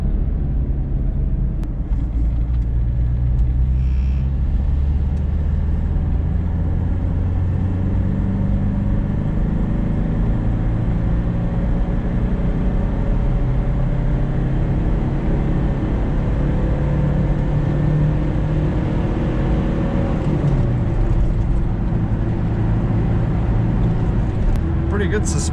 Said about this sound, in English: Another quick pull in the third gear.